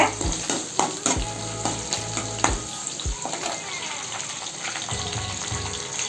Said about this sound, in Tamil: கொஞ்சம் கறிவேப்பிலை சேர்த்துக்கிறேன் சேர்த்துட்டு நல்லா வதக்கி விடுங்க